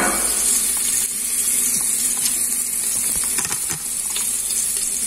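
Garlic frying in a pan at home, a steady close sizzle with faint stirring and scraping, no talk over it.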